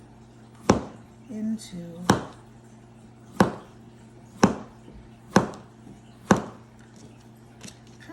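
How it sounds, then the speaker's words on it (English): A knife slices through zucchini on a cutting board, six sharp chops spaced about a second apart, close and crisp, with someone talking briefly between the first cuts. "I'm gonna cut off the end, and you're gonna slice these"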